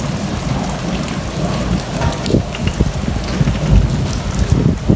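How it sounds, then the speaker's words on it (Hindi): Heavy rain pours down steadily in blustery weather, a dense continuous hiss with low rumbles of thunder swelling beneath it, loudest toward the end, with no voices. "हाँ देखो बारिश इतनी तेज बारिश पै रही है ना"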